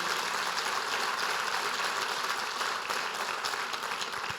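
A church congregation claps in steady, dense applause for the Lord, a loud continuous wash of hands filling the room throughout, no speech over it.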